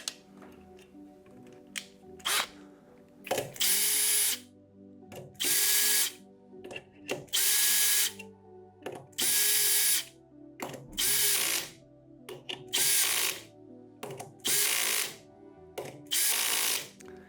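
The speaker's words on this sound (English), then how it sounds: "I'm going to start screwing this down" A power drill drives down the screws on a CSI Signature 4 Series control valve in repeated loud bursts of high whirring, about a dozen in a row, with short pauses and ratcheting clicks between them.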